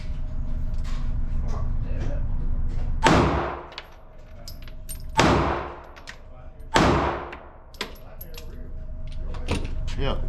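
Gunshots at a shooting range ring out in three loud, sharp reports spaced a couple of seconds apart, each with a decaying tail, over lighter clicks and handling noises.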